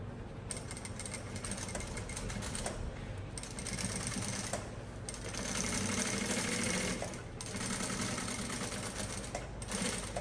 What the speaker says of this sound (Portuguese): Vou passar uma costura de segurança toda a volta.